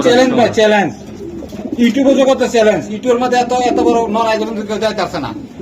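Budapest racer pigeons coo in close, repeated throaty phrases, loud and overlapping, with someone talking over them.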